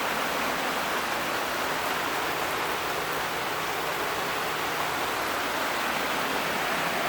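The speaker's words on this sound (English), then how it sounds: "It's been raining like this for hours." Heavy rain pours nonstop in Puna, a dense, steady roar like a downpour on the ground and tin nearby, loud and unbroken throughout with no voices.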